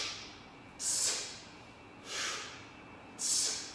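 Three forceful, breathy exhales, spaced about a second apart, are pushed out during a suspension trainer exercise. They sound close and hissy over a quiet room.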